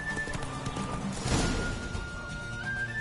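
Rhythmic hoofbeats of Roach, the horse in The Witcher 3, galloping at speed: a steady clip-clop over game ambience that swells briefly in the middle, with a faint whinny-like tone.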